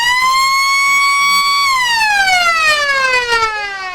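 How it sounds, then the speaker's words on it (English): A loud, sustained end-of-quarter siren at a football ground holds a steady tone, then slides gradually downward in pitch as it winds down. "the siren's going to beat him to it"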